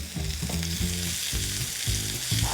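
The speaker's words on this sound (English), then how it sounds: "To some olive oil, add onions and a hefty amount of garlic." Onions and four cloves of garlic fry in olive oil in a pan, giving a steady close sizzle broken by repeated scraping stirs, with no voices.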